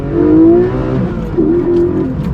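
A Porsche 718 Cayman GTS with its 4.0-litre flat-six engine revs loudly and close by, a smooth rising howl that dips briefly and then climbs again, with no one speaking over it.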